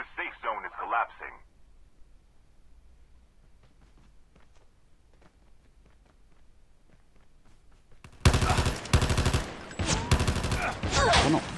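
Gunfire in Call of Duty Mobile: a short burst of shots at the start, then quiet scattered in-game sounds, followed by loud rapid bursts of automatic fire near the end.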